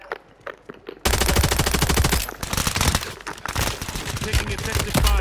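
Rapid automatic gunfire from the Call of Duty video game on the Urzikstan map erupts suddenly and continues as dense, loud bursts of overlapping shots.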